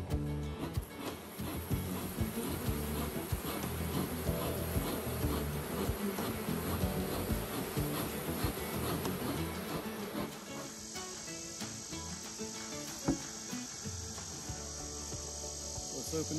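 Honey bees buzzing around hive supers opened during a honey harvest, a steady high drone with sporadic clicks and handling noise, a faint tone shift partway through.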